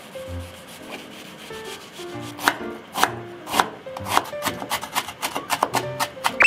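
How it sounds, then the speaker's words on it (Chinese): Onion being diced into small pieces with a knife, a run of sharp, close chopping taps that speeds into a quick steady rhythm toward the end, with no talking. "先把洋葱切小丁"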